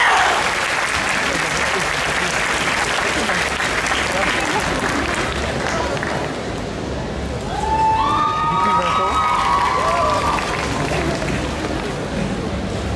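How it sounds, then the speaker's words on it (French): An audience at a cosplay contest on stage claps steadily, with a voice briefly rising over the broad, continuous applause partway through. "On peut les applaudir encore une fois."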